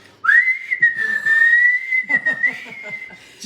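A loud, sustained whistled tone held for about three seconds, with a faint voice murmuring underneath partway through. A person imitating someone whistling.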